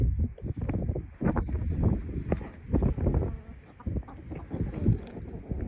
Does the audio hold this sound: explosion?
no